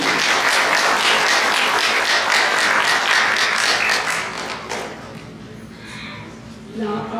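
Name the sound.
round of applause for a speaker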